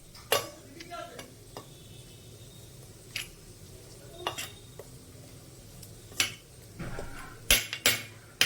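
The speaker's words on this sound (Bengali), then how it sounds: "এবার এটাকে আমি ভালোভাবে মিশাবো" A spoon scrapes and clinks as garam masala is stirred into a spice mixture with salt in a bowl, giving scattered sharp taps and a faint scraping over quiet room tone.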